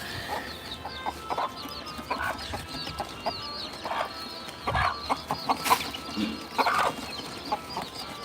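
Chicks and hens cluck and peep as they eat feed on a goat farm, with short bursts of calls and scratching sounds coming close and irregular, and no talk.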